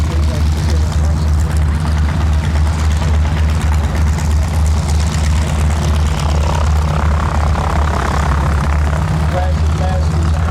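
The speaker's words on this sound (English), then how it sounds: "PLACID LASSIE is coming around looking landing here in just a moment." Placid Lassie, a WWII propeller airplane, taxis at an air museum's WWII weekend in Reading, PA, making a loud, constant, close propeller and engine roar that carries unbroken through the whole stretch.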